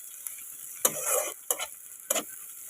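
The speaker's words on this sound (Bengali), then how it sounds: "পেঁয়াজটাকে ভালো করে ভাজা ভাজা করে নিতে হবে" Sliced onions and slit green chillies fry in a pan with a faint sizzle, broken by three distinct scraping stirs of a spatula against the pan.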